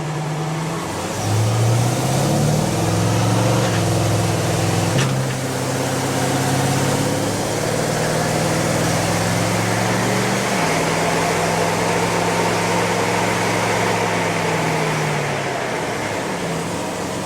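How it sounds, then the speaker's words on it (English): A classic car engine on a dyno holds a loud sustained drone while its automatic transmission steps up through the gears, the pitch climbing and dropping at each shift over several long stages. "It basically automatically went up through the gears."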